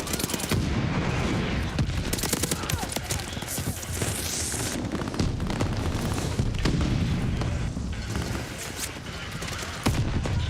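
Dense video-game gunfire, machine-gun bursts and scattered explosions, a continuous loud barrage across the whole stretch with booms mixed in.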